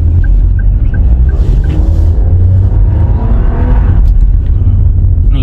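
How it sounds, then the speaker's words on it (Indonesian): A 2023 Toyota Agya three-cylinder engine revs with a loud, rumbling exhaust from the lower tailpipe, a dense, steady roar under close, constant drone with faint rising tones, no talk. "Suaranya tuh paling derongan dari knalpot bawah."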